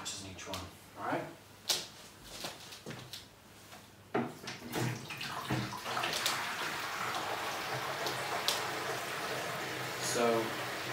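Water pours steadily into a saltwater aquarium during a water change, a continuous splashing wash that builds over the clip with a few knocks and handling sounds, and a voice talks over it early on.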